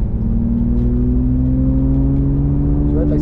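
A BMW 850 CI with its V12 engine accelerates, a loud, smooth rising engine note with clear harmonic whine climbing steadily, heard close from inside the car, with a brief voice near the end.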